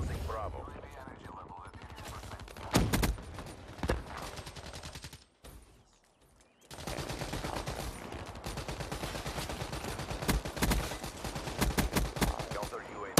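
Gunfire in a first-person shooter video game, with sharp shot bursts and rapid volleys over a steady mix of game sound, a brief quiet gap midway, then sustained firing to the end; a voice talks at times.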